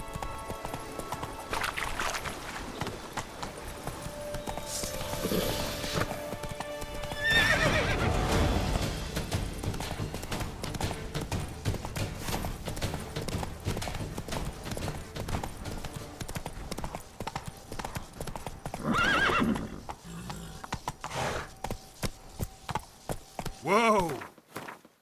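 Roach the horse in The Witcher 3 video game, hooves clip-clopping in a steady running rhythm throughout, with loud whinnies breaking out several times, over game music and ambience.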